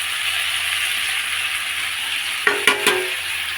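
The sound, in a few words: meat and potatoes being stir-fried in spice paste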